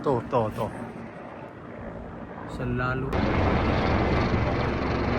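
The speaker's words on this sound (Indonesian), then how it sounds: "Ini setiap hari helikopter selalu lewat di depan rumah saya, di atas rumah saya." Patrol helicopter flies over a house in Mecca, its rotor and engine noise rising into a loud, broad steady roar after a brief stretch of speech at the start.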